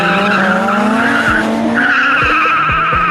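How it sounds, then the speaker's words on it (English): A 20-valve turbo car with NOS and a VR6 Turbo Golf 2 in a front-wheel-drive street race, engines screaming as tires squeal and skid loudly, pitch rising then dropping with gear shifts. "Ryan in his 20-valve turbo with NOS is going to be racing George in his VR6 Turbo Golf 2"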